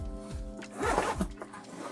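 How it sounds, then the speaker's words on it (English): The zipper on a Pgytech Onemo camera bag is pulled open in several quick, close rasping strokes, loud and distinct with no talking over it. "Alright, so this zips all the way down here."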